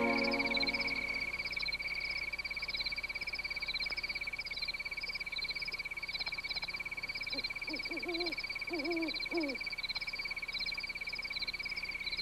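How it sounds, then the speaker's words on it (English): Frogs croak after rain in the western Grand Canyon: a few short rising croaks in a cluster near the end, over a steady high insect-like drone and evening ambience. "Sometimes we may share a rising exuberance with the reverberant frogs."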